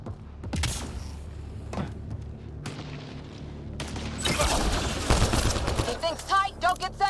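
Gunfire in Mass Effect Andromeda: bursts of rapid shots and booms mixed with game effects and someone talking, growing denser and louder toward the end.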